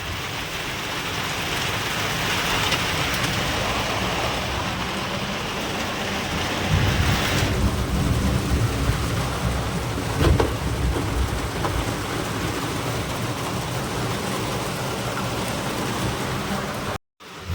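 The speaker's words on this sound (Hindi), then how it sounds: "बहुत ही जोरदार बारिश दोस्तों," Heavy monsoon-style rain pours down steadily outside a flooding home in India, making a loud, continuous hiss with a brief deeper rumble like distant thunder partway through.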